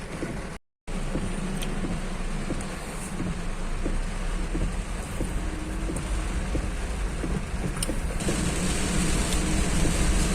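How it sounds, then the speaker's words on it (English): Sudden rain falling during a road trip from Kerala toward Udaipur, a steady dense hiss of rain drumming on a vehicle with low road rumble underneath, continuous and fairly loud, with a few sharper drop impacts. "it started raining all of a sudden"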